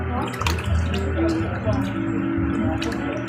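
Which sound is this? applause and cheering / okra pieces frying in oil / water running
water running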